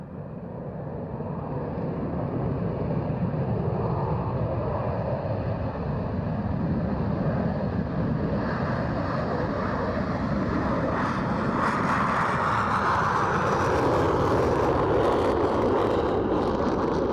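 A Lockheed Martin F-22 Raptor jet roars through a vertical takeoff at the RIAT 2018 airshow, its engine a loud, sustained rumble that swells and brightens with a rising hiss toward the end.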